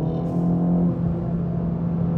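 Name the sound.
2024 Acura Integra Type S engine revving in second gear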